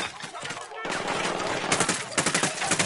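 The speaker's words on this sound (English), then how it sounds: "I'm getting shot at." Rapid gunfire in the video game Tom Clancy's Ghost Recon Wildlands, continuous automatic bursts that grow punchier toward the end, with a voice talking over part of it.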